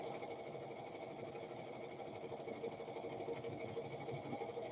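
A home embroidery machine stitches a butterfly design in the hoop, its steady mechanical whir running continuously at close range with no voices.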